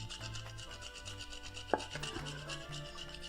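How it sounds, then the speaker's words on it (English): Whole nutmeg rubbed against a grater for hot chocolate, giving a soft, steady rasping scrape over a low background hum, with one brief brighter tick partway through. "if you have a whole nutmeg, it's good, or you can use ground nutmeg, but this is better for flavour. You can just grate in a little bit of that as well."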